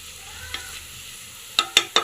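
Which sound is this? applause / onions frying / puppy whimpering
onions frying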